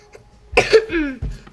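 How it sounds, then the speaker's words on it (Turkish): A single sharp cough followed by a rougher second cough and a brief throat-clearing rasp, close and fairly loud, with no talking. "Bazenleri öksürüyorum arkadaşlar."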